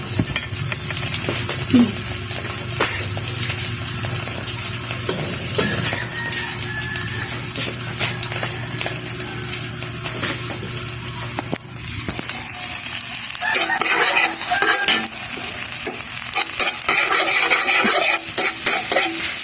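Red onion sautéing in hot oil with garlic for a mixed vegetable stir-fry, with a steady close sizzle and repeated stirring and scraping in the pan, growing busier and louder toward the end.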